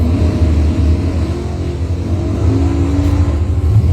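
Camaro and Monte Carlo doorslammer cars drag race at a test-and-tune event, their engines a loud, sustained low roar with rising pitch as they accelerate, heard without commentary.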